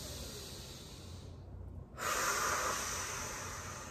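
A person takes a deep breath in during a calm yoga session: a steady, close airy inhale that pauses briefly, then resumes as a stronger, brighter rush of breath.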